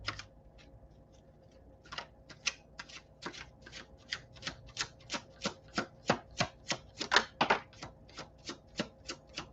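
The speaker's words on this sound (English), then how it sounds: "See it? My shuffling skills." Playing cards are riffled repeatedly, a rapid series of sharp, crisp flutters and snaps, close by, settling into a steady rhythm.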